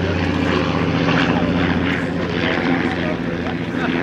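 A vintage aircraft with two Gipsy Six 200 hp engines gives a loud, continuous propeller drone that holds steady throughout, close and dominant.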